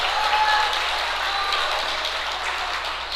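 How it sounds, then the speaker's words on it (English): Steady applause from a crowd fills the hall at a 2022 NAPF regional powerlifting championship, a continuous dense wash of clapping cheering on a lifter without pause. "She gets encouragement from the crowd."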